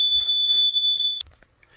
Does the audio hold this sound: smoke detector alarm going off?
yes